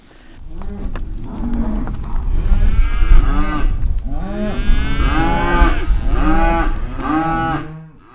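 Loud, close cattle mooing, several long drawn-out lows one after another, overlapping at times, with a low rumbling background.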